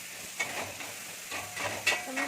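Shallow frying in a pan ahead of adding chopped tomato for gobi paratha filling: a steady sizzle with a few scraping stir strokes, close and fairly quiet, no voices.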